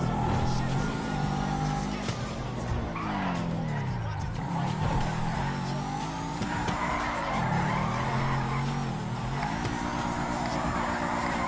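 A car drifting in GTA 5 Online, with a continuous loud tire skid and squeal over a droning engine that wavers in pitch as the car slides, sustained for the whole stretch without voices.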